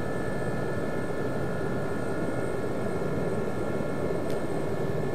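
The engine of a Gazelle helicopter in a flight simulator game drones continuously with a steady turbine whine and a dense broadband rush. It stays loud and unchanging throughout, with no talk.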